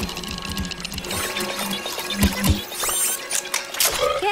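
A cartoon central shoe-vacuuming machine in a Barbie dreamhouse whirs and rattles steadily with mechanical clicks and a brief thump, running loud and close with no voices over it.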